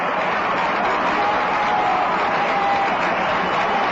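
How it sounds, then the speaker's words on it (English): Baseball crowd at Riverfront stadium giving a batter a warm hand, a dense, steady wash of clapping and crowd noise heard over an old radio broadcast with a faint hum running underneath. "nice hand from the crowd here at Riverfront"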